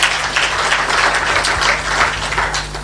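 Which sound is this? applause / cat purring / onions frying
applause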